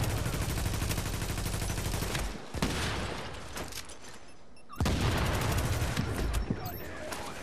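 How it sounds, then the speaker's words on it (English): Grenades burst in rapid succession during a Dark Zone firefight in the shooter game The Division, with loud, dense booms and gunfire filling the whole stretch, broken by two brief near-silent gaps. "I'm just being spammed now with grenades"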